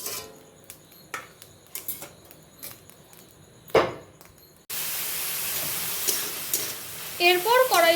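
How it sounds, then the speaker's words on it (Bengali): Chopped chicken hitting a hot wok for mixed fried rice, a sudden loud sizzle that takes over after a stretch of quieter clinks and stirring, then holds steady with spatula scrapes near the end. "এরপর কড়াইতে দেওয়া হয়েছে চিকেনের কুচি। চিকেনও ভালোভাবে ভেজে নেওয়া হবে।"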